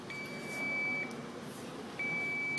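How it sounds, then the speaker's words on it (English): Two steady electronic beeps, each lasting about a second, ring out from a spray booth control panel switching to heat mode, over a low background hum. "It turns on heat with a beep sound."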